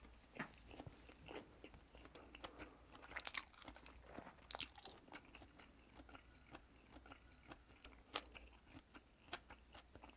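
Gimbap filled with double egg and cheese being eaten close up, a series of soft crunchy bites and chewing sounds at an irregular pace, quiet and intimate, with no talking.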